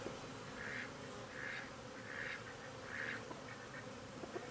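Honey bees buzz inside an opened hive during an inspection, a faint, steady hum with soft swelling pulses, heard close and alone without talk.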